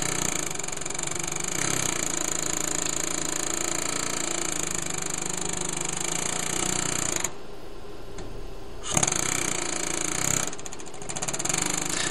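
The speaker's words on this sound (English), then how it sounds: "anytime you're using an air hammer" A loud, continuous rapid hammering of a pneumatic air hammer removing a car wheel hub, briefly pausing twice before resuming, with a steady mechanical whine throughout.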